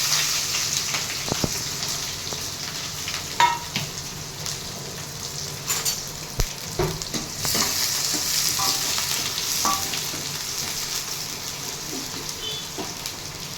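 Mustard seeds, urad dal, curry leaves, green chillies and onion fry in hot oil, giving a loud, continuous crackling sizzle close by, broken by occasional clatters of a stirring spoon against the pan.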